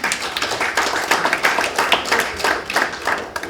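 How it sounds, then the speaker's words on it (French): Audience applause welcoming the mayor of Paris's 10th arrondissement at a climate and resilience consultation launch, a steady dense patter of many hands clapping close by for several seconds, with no talking over it. "Je ne demandais pas d'applaudissements"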